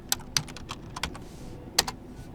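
A command is typed on a computer keyboard in a short, uneven burst of crisp keystrokes, close and clear, with a low background hum and no talking.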